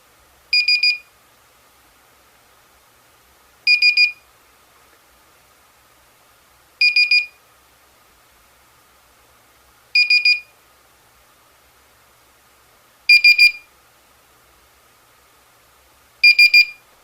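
High-pitched electronic chirps from a cheap door alarm on a freezer sound in short triple bursts, six groups spaced about three seconds apart, with silence in between and later bursts slightly louder.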